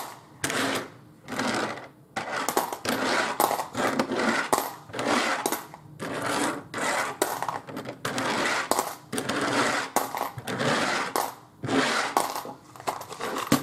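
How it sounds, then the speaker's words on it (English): Pennies are counted out by hand, producing continuous bursts of metallic clinking and rattling in irregular rhythm. The sound is close and moderately loud, with brief gaps between handfuls and no talking. "I'm counting out pennies."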